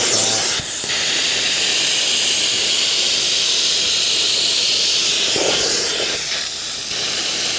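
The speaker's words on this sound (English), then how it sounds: "Hot steam is coming through" A carpet cleaner pushes hot steam into a dirty fabric couch, a loud, continuous close-up hiss with brief dips and rustles as the nozzle moves.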